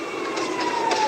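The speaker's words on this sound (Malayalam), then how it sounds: "പുറകിൽ ആംബുലൻസ് കാര്യങ്ങളൊക്കെ വരുന്നുണ്ട്" An ambulance siren in the GTA video game comes up from behind, its steady wailing tone gliding slightly downward over about a second, moderately loud above a constant background hum.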